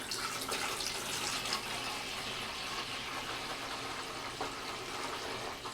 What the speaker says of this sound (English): I'm going to start my grow by pouring water into the main container